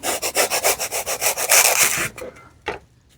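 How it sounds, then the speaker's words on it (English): A small saw cuts rapidly with quick, even back-and-forth rasping strokes, then stops, followed by a couple of faint scrapes. "like a little hobby saw"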